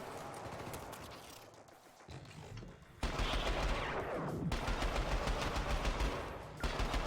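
Rapid automatic gunfire from the video game Syndicate rattles on loud and continuous, jumping up sharply after a quieter opening stretch.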